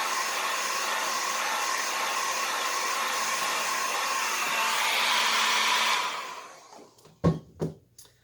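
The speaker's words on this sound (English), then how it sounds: "we still want to move our hairdryer around the canvas" A hair dryer blows steadily across wet paint on a canvas, a constant whirring roar for several seconds before it switches off and winds down, followed by a few sharp handling knocks.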